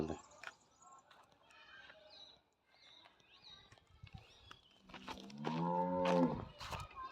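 Cattle moo loudly nearby in a cattle shed at an old Chettiar house in Poolankurichi, a long low call rising near the end, with scattered bird chirps and background noise earlier.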